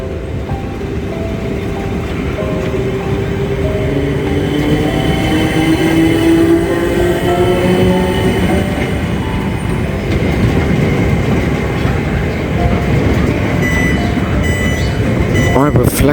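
A British Rail Class 455 electric train pulls away from a platform, with a steady loud rumble of wheels and traction motors rising as it gathers speed, plus faint clicks of wheels over rail joints.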